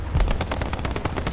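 Tank cannon and vehicle gunfire in the War Thunder video game, a rapid loud burst of repeated shots with a heavy low thump near the start, no talking.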